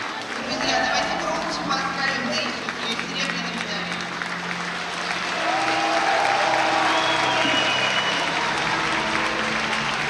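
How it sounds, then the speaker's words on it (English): Applause rising from the crowd at a judo Grand Slam in Ekaterinburg for the silver medallist, sustained clapping through an arena announcer's voice, swelling louder in the second half. "Good round of applause for Taisia Kireva"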